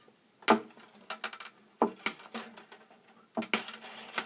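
Cutters snip acoustic guitar strings at the neck of an Epiphone MIJ PR-600ASB, sharp metallic clips close up, each followed by brief ringing and rattling, with quiet pauses between cuts.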